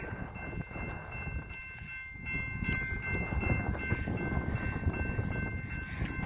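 An Amtrak passenger train approaches with a rising, rumbling clatter of wheels on rail, growing louder through the second half, with a faint steady tone above.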